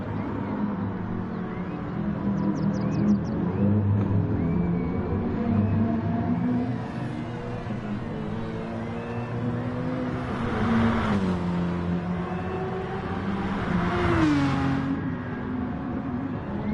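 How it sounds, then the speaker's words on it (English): A racing car drifts in a racing video game, its engine holding a steady loud drone with rising and falling pitch sweeps as it slides through corners, tire hiss underneath. "Viper pulling off some drifting."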